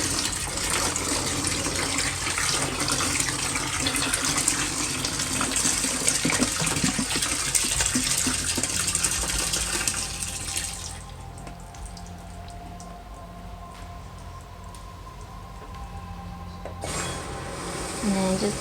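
Water pours steadily into a washing machine being filled for a bleach deep-clean, a close, dense gushing rush that drops to a quieter trickle midway before the heavy flow briefly returns near the end.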